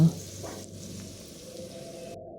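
Cumin, fennel and mustard seeds fry in hot oil for a vegetable curry, giving a steady close sizzle and crackle throughout, with faint kitchen noise in the background.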